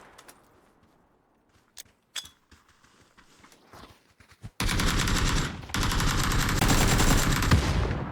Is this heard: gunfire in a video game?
yes